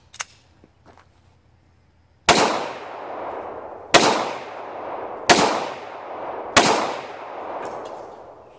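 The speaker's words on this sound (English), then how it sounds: "we're gonna shoot with this Walther CCP 9mm, see if I can hit these books." Four sharp, loud Walther CCP 9mm pistol shots ring out outdoors at roughly even intervals, each with a short decaying echo, after a quiet stretch with faint small knocks.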